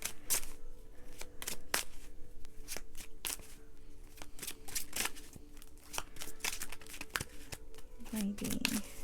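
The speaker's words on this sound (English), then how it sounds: "So I'm gonna just shuffle my cards." A deck of tarot cards is shuffled by hand in a series of quick, crisp riffles and slaps, faint and close, with a brief murmur of voice near the end.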